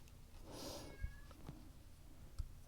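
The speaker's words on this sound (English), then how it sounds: "So you can probably hear Hobo meowing." A cat meows once, a drawn-out call of middling loudness set against a quiet indoor room, with a few soft knocks and taps coming after it.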